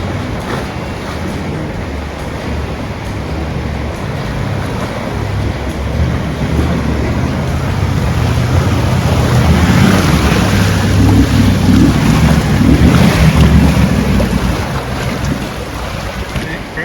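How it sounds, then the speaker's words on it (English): An Isuzu D-Max 4WD fords the Pascoe River crossing in Cape York, with a continuous rush of churning water and heavy wind buffeting over a low engine rumble that swells toward the middle. "The first major obstacle is the Pasco River crossing"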